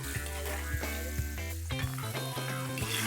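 Chicken pieces frying in hot oil over medium heat, a steady close sizzle running throughout with faint clinks and stirring touches, no voices.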